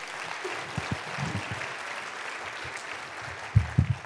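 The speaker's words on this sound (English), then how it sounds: "Let's give another round of applause for our Where Are They Now folks." An audience at a pitch-competition final showdown applauds, a soft, steady clapping wash heard at a distance, with a few louder low thumps and brief voices near the end.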